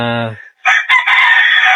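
A broody hen clucking, a short tonal call followed by harsh, raspy bursts of agitated clucks, close and loud with no talking.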